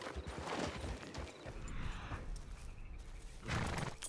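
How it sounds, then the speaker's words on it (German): A saddled horse in the video game Red Dead Online, faint rhythmic hoof clops on the ground with light clinking of tack, soft and somewhat distant. "Mir war so, als hätte ich es hier klimpern gehört, aber das ist, glaube ich, unser Pferd."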